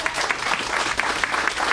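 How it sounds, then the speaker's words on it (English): An audience claps for a contestant in the Lady Farmer of the Year final at the National Ploughing Championships, a steady, even round of applause from a crowd lasting a couple of seconds. "She deserves a round of applause."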